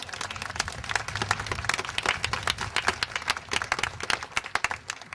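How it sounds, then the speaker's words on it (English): An audience at a branch library renovation opening celebration applauds steadily for about five seconds, with dense clapping close by at an even, moderate level and no talk over it. "So let's give them a round of applause."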